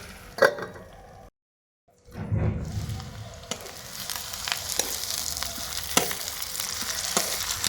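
Sliced bitter gourd (karela) fries in oil in a pan for a Punjabi sabji, giving a continuous close crackling sizzle with occasional stirring clinks, broken by a brief silent gap early on.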